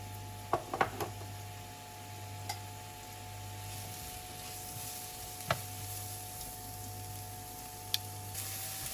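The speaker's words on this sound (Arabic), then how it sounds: "نجي نحطه الكرات ونخليه يقلي على النار" Steady sizzling of leeks frying in a pan with a constant background hum, occasional soft clicks and pops, no talking.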